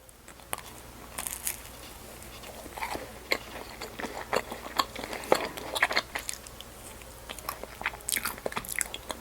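Someone bites and chews a strawberry-milk macaron-like sweet topped with marshmallow and star candies and filled with strawberry jam, giving close, crisp crunches and soft squishy chewing in irregular bursts.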